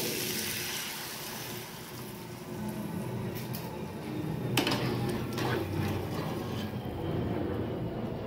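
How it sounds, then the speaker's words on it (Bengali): Water poured into a pan of spiced vegetable curry with sweet pumpkin and ridge gourd, for a rohu fish curry, giving a steady rushing wash that builds slightly midway with a few brighter splashy streaks. "দিয়ে দেব জল"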